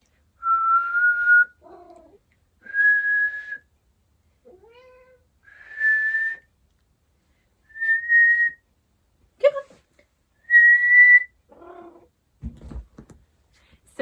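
A person whistles a series of short, clear, evenly spaced notes to call a pet cat, answered by soft meows and a brief scuffle near the end, with no talking.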